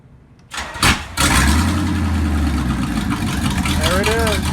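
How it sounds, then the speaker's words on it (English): A 1985 Corvette engine cranks briefly and then catches, settling into a loud, rumbling idle close to the microphone, with a faint voice near the end. "then we'll be ready to start this car"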